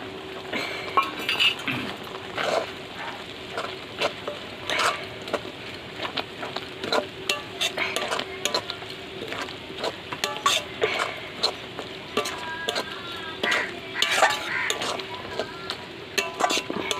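Drumstick leaves (sajne shak) cooking in a pan with flour, cumin and ginger paste and water, stirred with a utensil that clinks and scrapes repeatedly over a low sizzle, close and fairly loud.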